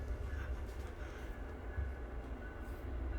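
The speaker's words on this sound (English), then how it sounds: "this goddamn fucking train goes by" A train passes by, a continuous low rumble and rolling roar with some higher rattle, steady and moderately distant throughout.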